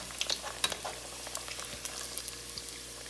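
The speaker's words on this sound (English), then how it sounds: "And just fry these bad boys right on up." Chicken and Philly cheesesteak empanadas fry in hot oil with a steady, soft crackling sizzle dotted with small pops, close by and without talk.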